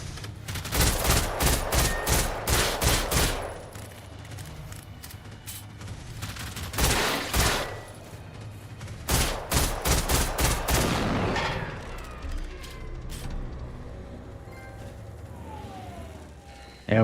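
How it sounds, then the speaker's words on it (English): Enemy gunfire in the Generation Zero video game comes in loud bursts of rapid shots, three clusters spread across the span, with quieter game ambience in between. "Oh, shooting at me already."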